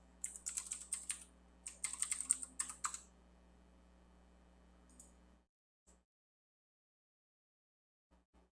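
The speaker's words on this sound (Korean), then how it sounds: "맥 같은 경우는 터미널 상에서 엑스코드 셀렉트라고 입력하고 엔터 치시면은" Quick bursts of typing on a Mac keyboard as a terminal command is entered, several rapid clusters of key clicks close by over a quiet room hum, then a few isolated taps and silence.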